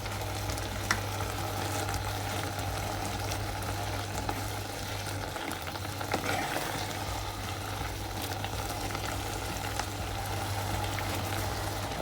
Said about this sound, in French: On continue à bien écraser toutes les pommes.